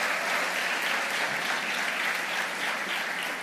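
Dense, steady applause from a large audience at a Portuguese-language motivational talk, loud and sustained throughout without a break.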